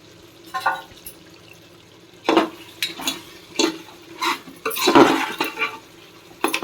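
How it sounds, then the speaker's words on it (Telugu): Water poured over mutton in a pressure cooker, then the lid fitted and closed, heard as close, irregular bursts of splashing, metal clatter and knocks separated by short quiet gaps. "ఇప్పుడు వాటర్ వేసుకొని కుక్కర్ మూత పెట్టేసి ఒక 4 విజిల్ వచ్చే వరకు పెట్టేసుకుందాం."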